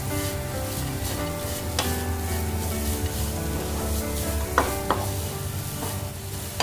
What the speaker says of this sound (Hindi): इसे हमें गुड़ को मेल्ट होने तक चलाना है